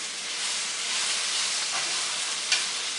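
Beef fajita vegetables fry in a pan with a steady, bright sizzle that holds evenly throughout, with one small pop near the end and no voices.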